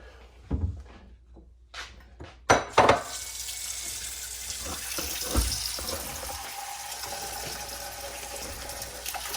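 Raw chicken for an oven stew washed under a running kitchen tap: a few clunks and knocks, then a steady rush of water into a sink that runs on continuously, with some handling noises underneath and no talk.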